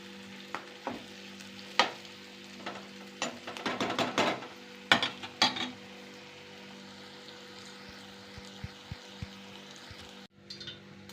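Mustard seeds and cumin crackling in hot oil, with clusters of sharp sizzling bursts and pops in the middle section, then quieter hiss and a few faint ticks, close by.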